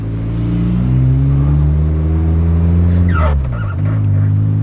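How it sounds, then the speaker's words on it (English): A Porsche 944 convertible cruising with the top down gives off a loud, close, steady whine and hum from its power steering pump, with the pitch dipping briefly partway through. "Got some lovely power steering pump noises."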